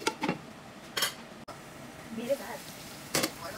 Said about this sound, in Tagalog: hahaluin ko din paminsan-minsan para naman magpantay ang luto nito